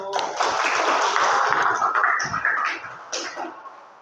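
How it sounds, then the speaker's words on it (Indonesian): Classroom applause from students for a presenting group during a teacher-training session, a short burst of clapping mixed with voices that fades toward the end. "Tepuk tangan kelompok 1."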